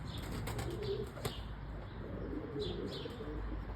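Pigeons of a breed called Eke in their coop, giving soft low coos and a few wing flaps amid a steady background hum, with occasional sharper chirps near and far.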